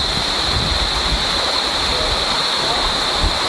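A waterfall at a crowded spot gives a constant, even broadband rush of falling water, close and steady throughout.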